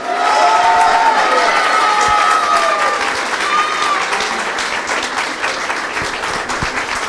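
Sustained loud applause from a large audience of Nice supporters for goalkeeper Hugo Lloris, dense clapping with some cheering throughout, easing slightly toward the end.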